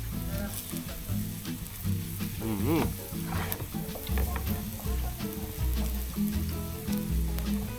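Steady, loud sizzling of pork frying on a hot Thai barbecue grill (moo kratha), continuous crackle throughout with faint background voices, outdoors.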